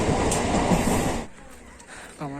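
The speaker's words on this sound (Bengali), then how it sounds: "স্টেশনটা একবার ট্রেন যাচ্ছে, ট্রেন কামারকুণ্ডু স্টেশনে ঢুকবে আর কিছুক্ষণের মধ্যে" A train runs past at a railway station near Kamarkundu, a loud close clattering roar of wheels that drops away halfway, leaving quieter rumble and a short voice at the end.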